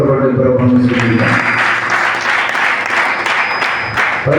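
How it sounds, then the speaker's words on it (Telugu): After a brief voice, a church congregation claps together in praise of the Lord, giving several seconds of dense, loud, sustained applause. "ఒకసారి అందరం చప్పట్లు కొట్టి ప్రభువుని స్తుతిద్దాం"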